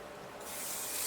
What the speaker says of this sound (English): I'm going to put a bit more shine spray on just so it helps